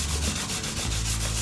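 Close, steady rubbing scrape of hand sanding on an aluminum intake manifold surface from a Chevy Venture, worked in small circular strokes, continuous and fairly loud with no talking.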